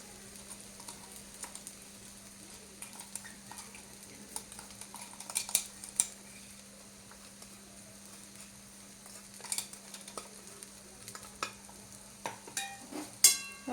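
Sabudana khichdi being stirred with crushed peanuts in a pan: sparse, faint spoon scrapes and light clicks at irregular intervals over a low steady hum, with no talking.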